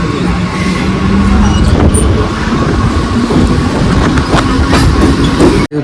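Loud, close rumble of a Mumbai local train arriving at Ghatkopar station, with rattling carriages and squealing, clattering wheels throughout.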